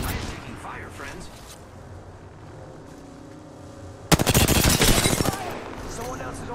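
Dense burst of rapid gunfire in the battle royale game Apex Legends, loud and close for about a second and a half before cutting off, with quieter game ambience and scattered effects around it.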